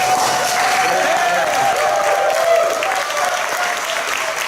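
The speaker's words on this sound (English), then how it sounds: "when you applaud, you're not really applauding to the band, you're applauding to Dennis, so you make sure it's loud" An audience at a bluegrass festival applauds loudly and steadily, a dense wash of clapping that holds for several seconds with no break.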